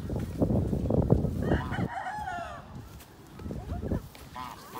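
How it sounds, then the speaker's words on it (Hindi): Chickens on a farm crow and cluck close by, a rooster call rising over ongoing clucking and barnyard bird noise. "वो दूसरी तरफ मुर्गी है।"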